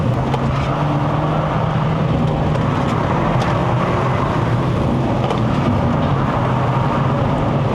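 A 2014 Proton Perdana 2.4 engine roars loudly at redline, about 7100 rpm, climbing a mountain road, a dense, sustained drone that holds steady throughout.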